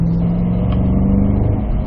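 Cadillac CT5-V Blackwing engine droning steadily at high load on a race track, a continuous close, loud exhaust tone with a slight pitch rise and no speech.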